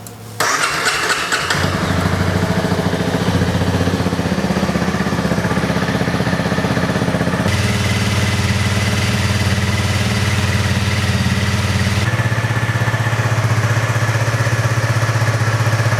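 A Honda CRF250L Rally dirt bike engine with its stock exhaust starts with a brief crank, then settles into a loud, steady, fairly quiet-toned idle that runs continuously up close.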